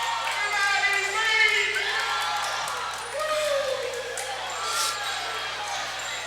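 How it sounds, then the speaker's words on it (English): Crowd cheering and whooping at a Lorain High School staff vs. student basketball game in a gym, a steady roar of many voices that swells near the start and again midway. "Woo, that is such a crowd"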